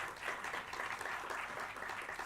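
Faint, steady applause from an audience at a book launch and discussion, a continuous wash of many hands clapping somewhat distant and alone, without talk.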